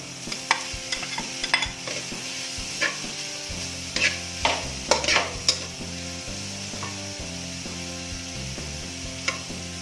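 A hot dog fries in a pan while cooking a creamy sweet spaghetti, giving a steady sizzle with repeated stirring scrapes and clatter, close and fairly loud, with a music-like tonal bed underneath and no voices.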